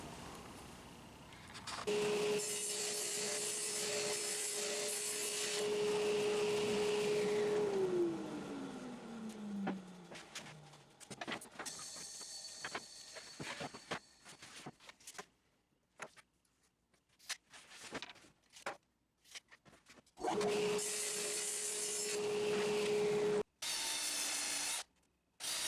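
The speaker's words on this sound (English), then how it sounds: "So I'm going to cut down this piece of plywood to 32 5/8." Power saw cutting down a piece of plywood in a workshop: loud whining bursts with the motor spinning down between cuts, then scattered clatter and a final loud run.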